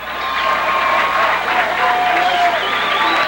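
Crowd at a 2000 high school football game between Central and Coe cheers and applauds steadily, a loud continuous roar of voices and clapping filling the stands as spectators rise, with no clear speech over it.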